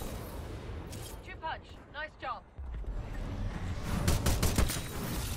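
Grenades explode in the video game Titanfall, giving a rolling burst of rough, booming blasts that swell toward the end. A voice talks over the game audio.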